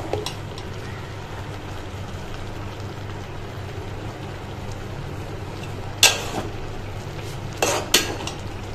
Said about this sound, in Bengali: আমি এখন শাকটা এখানে একটু নেড়ে দিচ্ছি।